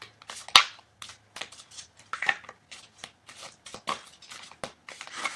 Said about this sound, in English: I must not be shuffling right or something, because the right card is not coming up.